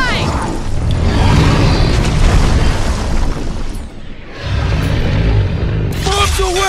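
Heavy bomb explosions in the Guardians of the Galaxy video game, a dense, loud rumbling barrage of booms with a brief lull before the blasts resume, under a game soundtrack.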